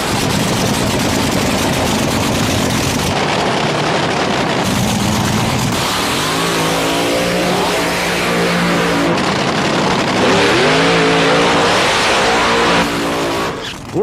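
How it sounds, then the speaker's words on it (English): Classic Top Fuel nitro dragsters of about 7,000 horsepower roar down the quarter mile at Top Gun Raceway in Fallon, Nevada, during an American Drag Racing Association event, a loud sustained blast with rising and falling engine pitch and no talking. "these are classic Top Fuel dragsters ready to proceed down the quarter mile."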